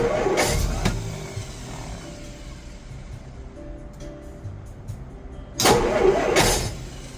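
A Dodge engine fitted with a Stromberg BXVES-3 carburetor, mixture screw one turn out and choke engaged, cranks in two loud bursts near the start and end, with a quieter idle-like rumble between.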